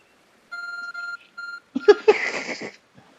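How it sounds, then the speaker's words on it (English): A beeping ARC phone in Pokemon Legends: Arceus gives a run of steady electronic tones in three short bursts, followed by a brief burst of garbled game chatter, clear and close with no talk over it. "Your ARC phone is beeping, oh boy."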